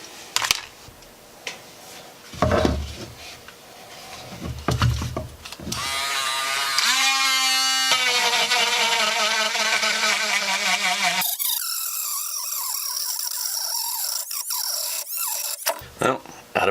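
Battery-powered rotary tool fitted with a tungsten carbide cutter carving into a wooden Roland Micro Cube amp cabinet, high whining grind in bursts that cuts off abruptly, with talking before it starts.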